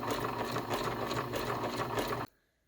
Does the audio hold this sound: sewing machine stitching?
yes